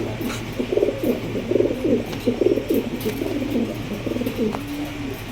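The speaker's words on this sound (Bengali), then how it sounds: "দর্শক দেখেন কত সুন্দর এক জোড়া লাউরি কবুতর" A pair of Lahori pigeons cooing nearby in soft, repeated rounded coos, several phrases in a row over a faint background hum.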